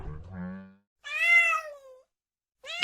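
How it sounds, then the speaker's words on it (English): Two separate cat meows, the first lower and shorter and the second higher and drawn out, followed by the start of a third call, each standing alone and close. "Cat"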